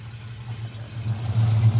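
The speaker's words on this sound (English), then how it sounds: "Duncan fires up the V8 and what a burble, what a noise." A Jensen car's big V8 engine burbles at idle, a deep steady rumble that swells louder toward the end, close by with no talk.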